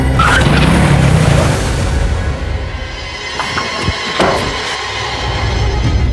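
A car brakes hard to a stop in a TV crime drama scene, with a loud, close rush of tire skidding and road noise that stays strong throughout.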